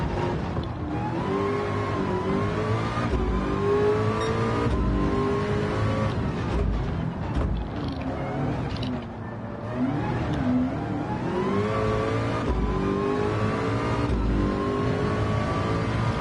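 Racing car engine in the Le Mans VR racing game, chasing a McLaren with a Huracán close behind, roars steadily at high revs throughout, with rising and falling pitch through gear changes and a brief dip mid-lap.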